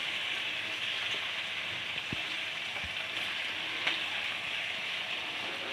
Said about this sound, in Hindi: 2-3 मिनट के लिए आलू को अच्छी तरह इसके अंदर फ्राई कर लें।